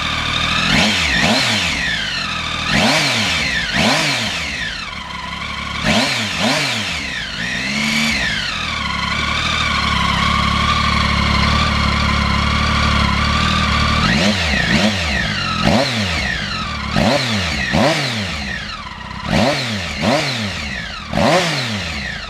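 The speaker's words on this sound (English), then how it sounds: "Just give the throttle a few blips for you so you can hear those exhausts." A Triumph Speed Triple 1050R three-cylinder motorcycle engine with aftermarket exhaust is revved repeatedly with sharp throttle blips that rise and fall quickly, loud and close, with a throaty exhaust note between revs.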